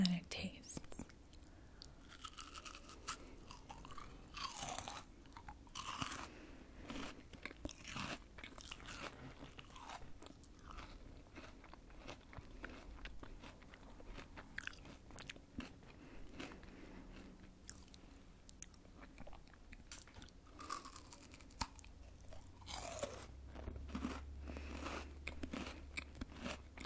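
Close-up chewing and crunching of a snack from a Munchpak snack box, recorded intimately for ASMR: quiet, irregular crisp bites and wet mouth sounds throughout, with soft whispered speech in between.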